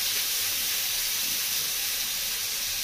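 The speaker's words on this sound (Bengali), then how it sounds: "পেঁয়াজটাকে ভালো করে একটু ভেজে নেব" Onion frying in a pan, a loud, even hiss of sizzling oil that runs unbroken and close throughout, with no other sounds.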